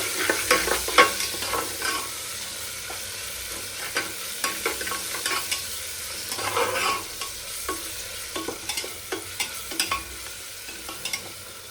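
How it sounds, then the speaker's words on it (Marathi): Ginger-garlic paste sizzles in a pan for dal khichdi while a spoon stirs it in repeated scraping strokes, all under a constant low frying hiss. "व्यवस्थित मिक्स करून घ्यायचं."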